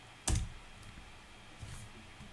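A single firm press of the Enter key on a computer keyboard while working in a spreadsheet, one sharp clack near the start followed by a couple of faint, softer clicks in a quiet room.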